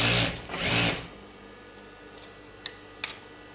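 A sewing machine runs in two short bursts, stitching the lining edge of a child's silk pattu pavadai dress, followed by quieter faint clicks and handling noises.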